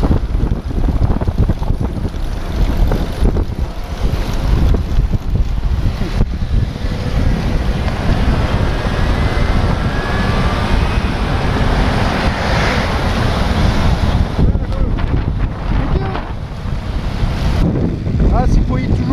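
Strong wind and breaking waves surround a sailboat on the Black Sea, a loud, continuous roar of gusts buffeting the microphone over the rushing wash of water.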